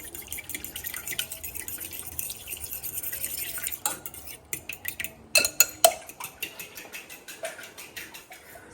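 Sugar, salt and milk are stirred together in a bowl for bun parotta dough, with soft sloshing and then a series of quiet spoon clinks and taps against the bowl.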